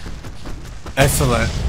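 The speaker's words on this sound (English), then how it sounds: "Explosion." An explosion in the video game Alan Wake Remastered bursts out suddenly partway through as a loud, booming blast with crackling debris, following quieter rhythmic game sounds.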